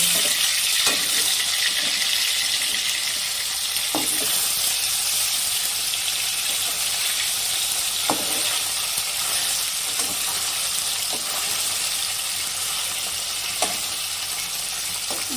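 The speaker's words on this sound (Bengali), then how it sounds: "মাছগুলো আমি লাল করে এক পাশ আগে ভেজে নিব" Bele fish sizzling steadily in hot oil, a constant close hiss broken by a few sharp taps of a spatula or utensil at irregular intervals, with no voices.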